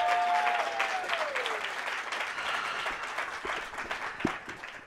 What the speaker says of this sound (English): Big round of applause for Tracy and Ian for coming up here.